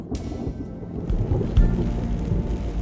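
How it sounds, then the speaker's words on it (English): A thunderstorm breaks over Cornwall on the way west to Land's End: steady rain hisses while deep thunder rumbles build and roll, loud and close, with no voices. "the storm that had been threatening finally broke"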